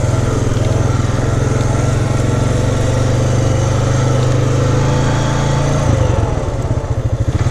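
A 2006 Honda Fourtrax ATV on Maxxis Bighorn 2 tires runs in automatic shift mode, its engine droning loudly and steadily up close with a low throbbing pulse that shifts pitch near the end.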